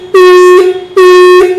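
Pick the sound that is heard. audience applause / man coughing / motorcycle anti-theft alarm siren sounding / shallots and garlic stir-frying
motorcycle anti-theft alarm siren sounding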